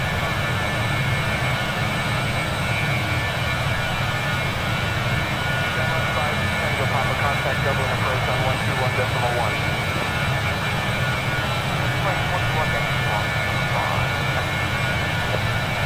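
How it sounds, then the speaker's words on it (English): Jet engines of an Aer Lingus Avro RJ85 in Microsoft Flight Simulator 2020 on a flight from Dublin to London City, a steady broad roar and whine filling the whole stretch at constant loudness, with indistinct speech mixed in. "Listen to them engines, goodness me."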